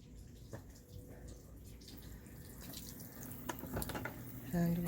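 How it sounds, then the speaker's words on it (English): Water runs from the tap of a hand wash sink at a goat cheese making building, a soft continuous trickling stream with a few faint clunks and handling noises, fairly quiet throughout. "Hand wash sink."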